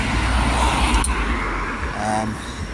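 A branded city bus passes along the road nearby with a steady engine rumble and road noise, and a brief sharp click partway through.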